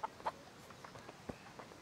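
A chicken in the medieval video game Kingdom Come: Deliverance gives several short, separate clucks at moderate distance, spaced irregularly against a quiet background.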